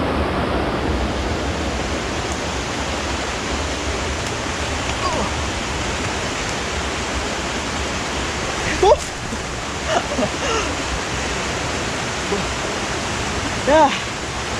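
A clear mountain river in Subang rushes steadily, a broad continuous wash of flowing water with a few faint brief sounds poking through near the end.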